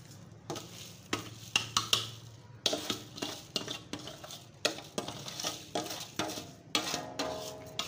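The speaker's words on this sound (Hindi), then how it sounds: "अभी हम ये चीनी और गाजर जो उबाली हुई ये डालेंगे।" Boiled carrots and sugar are stirred in a pot for carrot murabba, a utensil scraping in regular strokes roughly every half second with faint clinks against the metal, close and clear with no talking.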